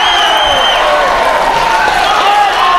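Kickboxing crowd at a K-1 fight between Marcel Thoss and Alex Boldert roaring and cheering after a hit, a loud sustained wall of shouts and whistles that stays intense throughout.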